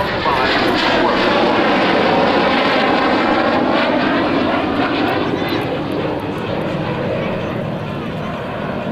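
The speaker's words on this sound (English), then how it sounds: "The F-117 comes by." An F-117 Nighthawk jet passes at an airshow, its loud, steady roar filling the whole span with a broad rumble that slowly eases; crowd or commentary sounds sit faintly beneath it.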